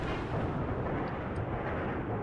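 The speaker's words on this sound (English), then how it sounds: "I realised it's a dry thunderstorm" A dry-thunderstorm lightning strike in RimWorld booms as one broad, rumbling blast that fills the whole clip, dense and low, fairly quiet overall with no talk.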